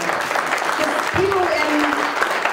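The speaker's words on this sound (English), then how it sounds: "you should clap for that" An evening event audience claps, a brisk crowd applause running throughout with cheering voices and a whoop rising over it.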